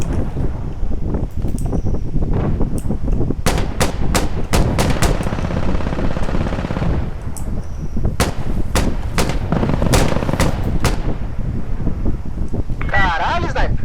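Rapid bursts of gunfire in the Insurgency Sandstorm video game, including sniper shots: loud sharp cracks in clusters and single reports, with voices talking throughout over a windy battlefield ambience.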